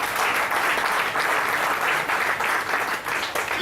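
A church congregation claps in sustained, dense applause, loud and close, a continuous wash of many hands without pause.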